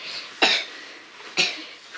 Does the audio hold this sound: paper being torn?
no